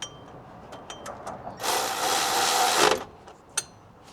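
An impact wrench tightens a serpentine belt tensioner bolt on a first-generation Toyota Sequoia, giving one loud rattling burst of about a second and a half between light clicks and taps of handling.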